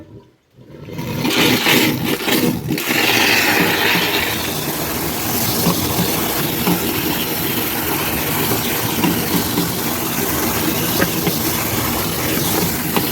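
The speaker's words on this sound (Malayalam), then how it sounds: "ചേച്ചി മോട്ടർ ഓണാക്കി" A water pump motor switches on abruptly and runs steadily, filling a water tank fitted with a float valve; a loud, constant rush of water and motor hum continues unbroken.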